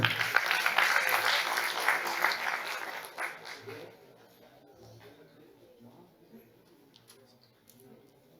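An audience claps at a youth parliament ceremony in an auditorium. The applause is full and continuous for roughly three and a half seconds, then tapers off into a quieter room with a few stray claps.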